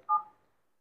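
A single short electronic key tone from a phone dial pad, like one press of a code such as *#*#4636#, beeps cleanly and briefly before fading into silence.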